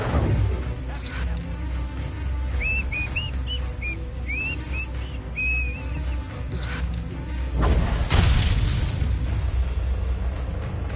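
Confringo fire spell in Hogwarts Legacy, a sudden broad explosive burst near the end that follows a stretch of thin whistling tones over a busy bed of game sound effects.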